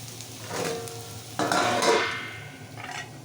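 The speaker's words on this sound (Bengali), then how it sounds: "ঢাকনাটা তুলে নেড়ে নিচ্ছি লাল লাল করে ভেজে নিতে হবে" Potatoes with gourd skin are stirred in a hot frying pan, giving a few scraping stirs over a soft sizzle of oil, close and without talking.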